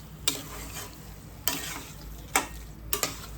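Sheera, a semolina pudding with ghee-fried dried fruits, stirred in a pan: a soft background sizzle with four distinct scraping strokes of the spoon spaced about a second apart, no talking.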